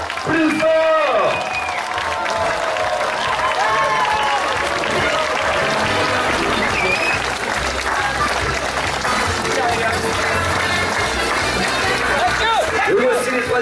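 A crowd at the finish of a Chaussée des Géants event applauds the finalists, a continuous loud roar of clapping and cheering with voices and a PA announcer talking over it throughout.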